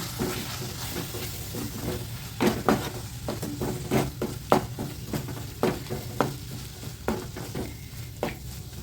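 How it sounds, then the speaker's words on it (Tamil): Masala for parotta salna sizzles and fries in a pan with repeated scraping and stirring strokes, close and steady, no voices. "இதையும் நல்லா வதக்கி விட்டுலாம்"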